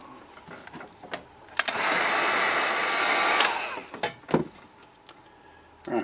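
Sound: dryer drying paint on a crankbait lure

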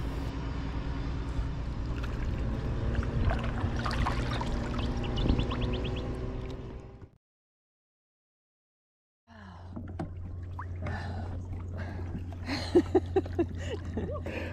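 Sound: paddling a boat on a lake

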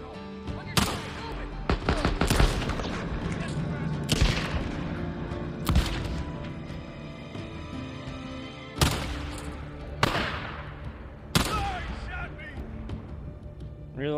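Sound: heavy gunfire in Days Gone video game

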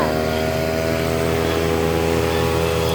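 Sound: lawn mower cutting grass

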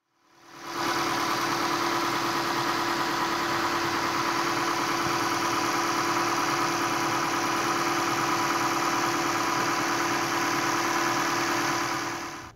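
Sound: Toyota Camry Hybrid replacement engine running

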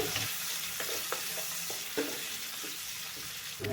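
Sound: chopped onions frying in oil

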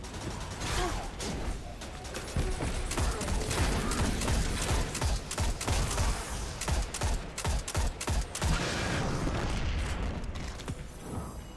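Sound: anti-aircraft gunfire in video game Destiny 2

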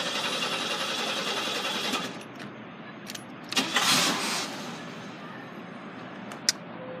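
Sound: 1980s car engine starting

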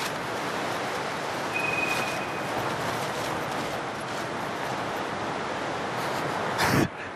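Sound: strong wind blowing around tent

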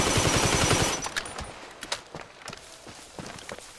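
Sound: submachine gun fire in GTA V Online video game

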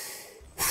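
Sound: huffing and puffing, blowing air

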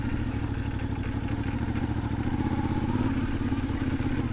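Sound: CFMOTO 450MT motorcycle riding in second gear

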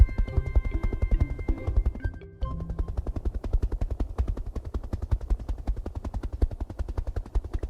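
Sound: helicopter in children's cartoon

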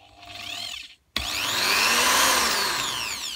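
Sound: Mac Allister 600W hammer rotary drill running at slowest setting

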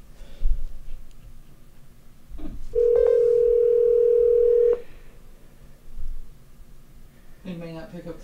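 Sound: telephone dial tone while calling

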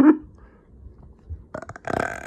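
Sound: burping

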